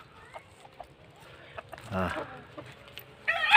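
A hen named Inday clucking among backyard chickens, soft scattered clucks and a louder burst close by, with a person's brief voice mixed in.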